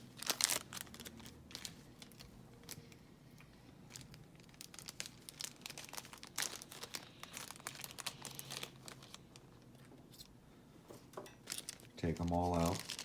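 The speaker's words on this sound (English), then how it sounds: "let's go ahead and open up these zip ties" A plastic bag of zip ties for a Traxxas Maxx RC truck is crinkled and torn open up close, with rustling and crackling bursts throughout and a voice speaking over the handling.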